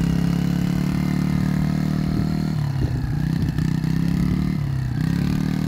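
A Yamaha YFZ50 youth quad bike runs steadily at low throttle outdoors, a continuous mid-pitched engine drone with slight clatter and small dips in revs, no voices present.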